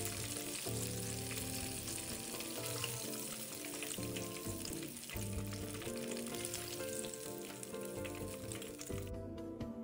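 Close, steady crackle and bubble of coated chicken pieces deep-frying in hot oil at medium heat toward a crisp golden finish, sustained throughout without any voices.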